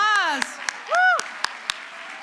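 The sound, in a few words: audience applause for dancers at a conference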